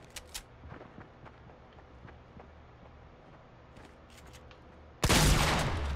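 A sudden loud burst of rapid gunfire from a squad shooter game erupts near the end, dense and sustained after a stretch of faint scattered ticks and footsteps.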